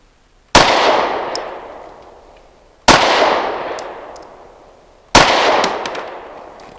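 A Ranger Arms RA9 pistol fires Blazer 115 grain aluminum-cased rounds: three loud, evenly spaced gunshots, each a sharp crack followed by a long, slowly fading echo suggesting an open outdoor range, with no talking.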